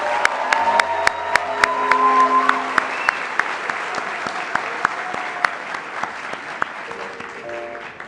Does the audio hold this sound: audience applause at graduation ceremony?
yes